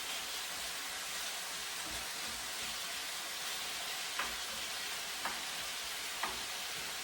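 Shiitake mushroom and chicken sizzle softly in a pan with a steady, faint hiss, broken by three brief clinks of a utensil toward the end.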